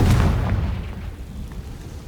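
The Confringo fire spell in the Hogwarts Legacy video game bursts with a deep boom that rumbles and fades over about two seconds, with no talking.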